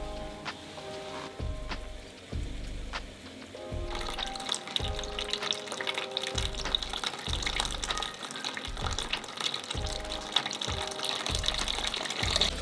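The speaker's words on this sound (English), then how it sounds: "Now we have to open the water valve, and please do not push it too hard" Water flows from an opened valve into a laboratory vibratory sieve shaker during wet sieving, a steady rushing gush that swells after a few seconds, with low rhythmic knocks from the machine beneath it.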